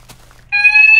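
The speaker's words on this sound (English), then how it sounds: "That was a fire alarm." A building fire alarm in a Minecraft game sounds as a steady, loud electronic tone that starts abruptly partway through and holds to the end, after a brief quiet stretch with faint noise.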